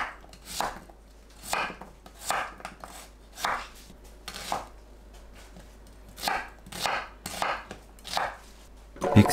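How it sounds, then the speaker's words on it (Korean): A kitchen knife cuts potatoes and onions into chunks on a cutting board for a Korean potato pancake, producing about a dozen crisp, close chopping knocks at a loose irregular pace with quiet gaps between them, no voices. "감자, 양파를 믹서에 갈기 좋은 크기로 썰어주세요."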